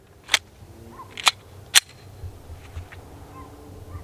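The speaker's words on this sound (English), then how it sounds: "Next up, 10mm. We're shooting that out of this Glock 20." Three sharp, loud 10mm pistol shots from a Glock 20, spaced about half a second apart, each a crisp crack with a short decaying tail over quiet outdoor background.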